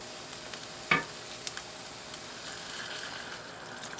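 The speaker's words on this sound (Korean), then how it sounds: "일본식 카레는 양파를 오래 볶아야 하는데 최소 30분은 볶아야 갈색으로 카라멜라이즈가 돼요" Onions for Japanese curry sizzle steadily in a pan as they are slowly sautéed toward caramelization, with a low continuous frying hiss, one sharp utensil knock near the start and a few light taps; close, with no talk.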